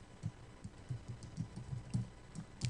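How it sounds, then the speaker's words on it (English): Soft, close keystrokes tap out a short irregular burst of typing on a computer keyboard, quiet clicks with small pauses between them and no talking. "So I'm going to type in here transformation."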